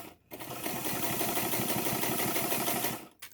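White 130 sewing machine running, a close, steady rapid mechanical whirring with regular stitching pulses, starting up after a brief pause and stopping near the end.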